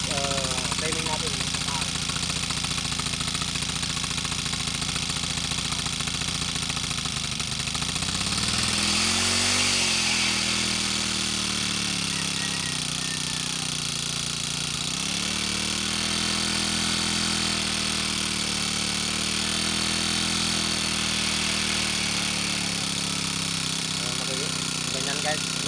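A Honda four-stroke brush cutter engine runs steadily after a carburetor repair, its loud continuous drone dipping and rising in pitch as the throttle changes.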